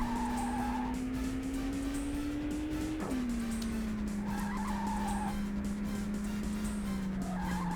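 A car drifts with heavy oversteer in the Initial D arcade racing game, a loud, sustained tire squeal that rises in pitch, sharply breaks, then slides lower, over a constant engine drone, with no talking.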